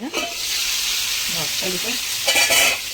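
Tandoori chicken wings fry in oil on a tawa, a loud continuous sizzle and hiss with brief scraping as pieces are turned, swelling near the end.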